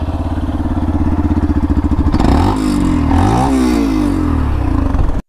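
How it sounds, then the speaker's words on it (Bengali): A Yamaha FZ X motorcycle idles with a loud, close, thumping exhaust, then revs up and down several times before cutting off abruptly. "শুনলেনই তো বাইকটির এক্সস্ট নোট কতটা লাউডি এবং সুন্দর"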